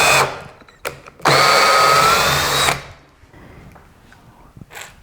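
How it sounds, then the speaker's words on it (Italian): A cordless screwdriver drives a screw into wood and then backs it out, with a short whirring burst near the start and a longer, loud, steady run in the middle, followed by quieter handling noises. "il mio bellissimo avvitatore, ho già fatto una X come vedete dove c'è la mia zampotta, avvito e svito, così ho il buco perfetto"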